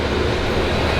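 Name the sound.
passing train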